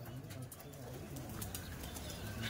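Golden pigeons coo softly in a pet pigeon sale setting, low murmuring calls repeating against steady background noise.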